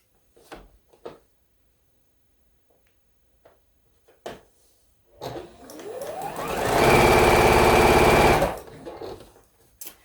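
Sewing machine stitching quilt blocks, a few scattered clicks and handling noises, then the motor whirs up into a loud steady run for a couple of seconds before slowing and stopping.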